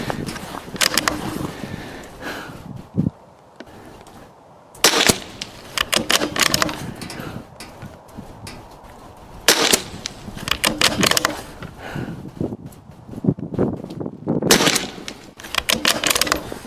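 Rimfire rifle shots from a RimX or Vudoo 360 at a 100-yard shootout, loud sharp cracks coming in several separated bursts of quick successive reports across the stretch.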